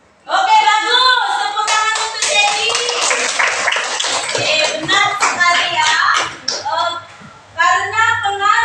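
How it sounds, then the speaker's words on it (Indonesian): Students in a classroom clap their hands together in a lively burst of quick, close claps mixed with young voices, briefly easing off before another round of clapping starts. "Tepuk tangan untuk Cherry."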